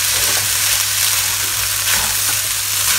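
Thai pineapple fried rice with chicken and shrimp sizzles loudly in a hot pan, with continuous frying hiss and the scrape of stirring running throughout, close up and without any voices.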